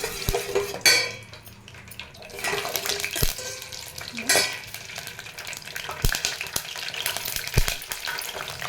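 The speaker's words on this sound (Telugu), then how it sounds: "కొద్దిగా ఆయిల్ పోసి ఇదిగోండి ఇవి 4 వేసేస్తున్నాను. మంచిగా దీన్ని ఫ్రై అవ్వనిద్దాం." Four pieces frying in a little oil in a pan for a Telugu tomato pappu, a steady sizzle with scattered clinks and scrapes of a utensil against the metal, close and unaccompanied by voices.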